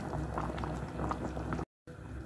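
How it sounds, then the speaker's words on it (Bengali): Small new potato curry (aloo dum) without onion bubbling in a pan after water was added, a steady close simmering burble that cuts out briefly near the end. "জল দেওয়ার পর এটা আমার ফুটে উঠেছে।"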